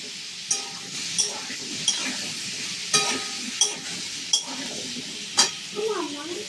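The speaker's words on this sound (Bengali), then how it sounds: "আমি আবার একই কড়াইতে আবার আলুগুলো ভেজে নেব" Potatoes sizzle in a hot kadai while a utensil scrapes and clinks against it in repeated sharp strokes, steady frying hiss underneath.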